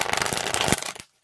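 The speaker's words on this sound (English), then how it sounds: "Why am I shuffling them upside down?" A deck of tarot playing cards is riffle-shuffled for about a second, a close, dense rapid flutter that stops abruptly into silence.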